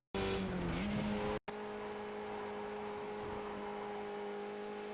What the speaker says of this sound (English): give the brakes a hard tap to shift down into 3rd gear and accelerate towards the exit